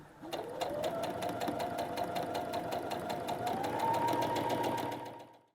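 A sewing machine runs continuously while stitching fabric for a grocery tote around curves, its rapid needle clatter steady and close with a rising motor whine, stopping near the end.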